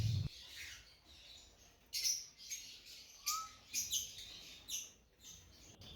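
Yellow Fischer lovebirds in an aviary colony give high chirps and squawks in short bursts, fairly faint and spread through the clip, with no speech.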